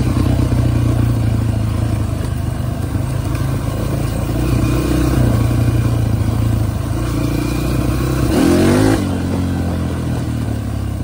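A Honda CRF150 dirt bike is ridden, its single-cylinder engine droning steadily close by with a throttle surge and rising rev near the end.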